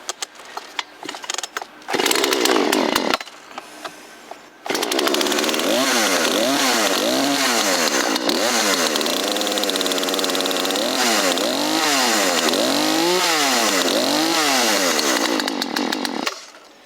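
A Poulan Wood Shark petrol chainsaw sputters through a couple of pull attempts, then roars to life and runs loud, its engine revving up and down repeatedly.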